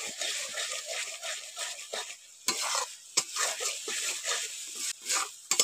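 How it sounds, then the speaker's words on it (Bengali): Red chili powder is stirred into sizzling chicken bhuna masala in a pan, giving continuous frying hiss with repeated scraping strokes of the spoon, close and fairly loud. "এবার এর মধ্যে দিয়ে দিচ্ছি অল্প করে লাল লঙ্কার গুঁড়ো, লাল লঙ্কার গুঁড়ো দিয়ে ভালো করে একটু মিশিয়ে নিচ্ছি।"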